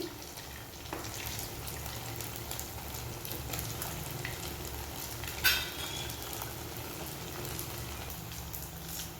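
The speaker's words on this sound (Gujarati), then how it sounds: "આને આપણે વચ્ચે વચ્ચે થોડા હલાવતા રહીશું જેથી નીચે ચીપકે નહીં" Sabudana (tapioca pearl) fries are stirred as they fry in a pan, a continuous soft sizzle and bubble with occasional utensil scrapes and one brief louder clink midway, no talking.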